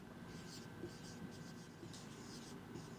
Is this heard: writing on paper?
yes